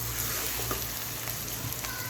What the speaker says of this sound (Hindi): बस तकरीबन 20 से 10 सेकंड मैं इसको अच्छी तरीके से कुक करूँगी, ताकि अदरक लहसुन की अच्छी सी खुशबू आ जाए